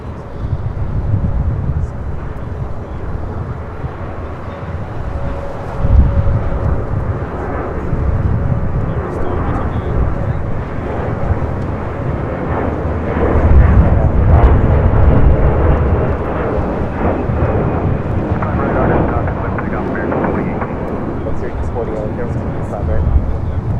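Delta Airbus A321neo airliner arriving at LAX, a loud, sustained jet engine roar that swells and rumbles over the runway, with someone talking over it.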